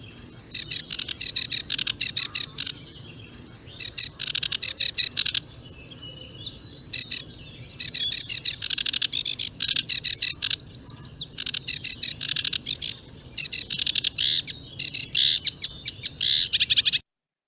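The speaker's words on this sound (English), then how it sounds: "This is a sedge warbler. It's a bird of the wetlands, and it's got a very," A wetland sedge warbler pours out a loud, close, chattering song of rapid scratchy phrases and whistles, nearly continuous over a quiet background, with no voices.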